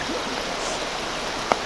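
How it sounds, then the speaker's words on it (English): Creek water flows in a steady broadband rush after overnight freezing rain, close and continuous, with one brief splash or knock near the end. "Just sneak down to the creek here."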